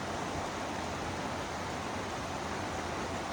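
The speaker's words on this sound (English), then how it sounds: "One last look at the waterfall." Waterfall on the Wonderland Trail at Mount Rainier National Park, a steady broadband rush of falling water, continuous and even with no change in level, heard alone without talk.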